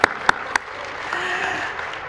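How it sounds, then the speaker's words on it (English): Applause at an education research awards ceremony: a few sharp, separate claps at the start, then a light, diffuse patter of clapping from the audience that continues softly to the end. "There's a clap."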